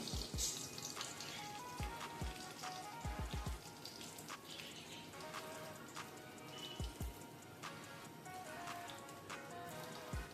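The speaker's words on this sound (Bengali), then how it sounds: "এই যে রসুনটা একটু ভাজা ভাজা হয়ে গেছে" Garlic sizzles in hot oil for lentil dal, a quiet, steady frying hiss broken by irregular pops and spatters.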